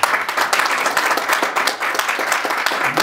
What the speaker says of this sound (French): Applaudissez-le d'abord.